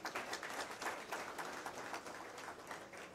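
An audience at the 17th My Karachi Expo inauguration breaks into applause, a dense, steady wash of many hands clapping at moderate distance with no voices standing out.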